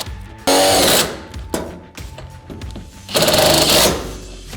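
Power tool driving a self-threading hex bolt through a bracket to fit a Holman partition in a Ford Transit Connect, in two short loud buzzing bursts separated by quieter handling noise, close up.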